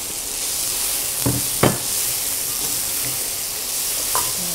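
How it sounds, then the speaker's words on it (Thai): Tomatoes and garlic stir-fry in a pan with a steady, close sizzle, broken by a few sharp clanks of a spatula against the pan. "ต้องผัดจนมะเขือเทศนี้เละเลย"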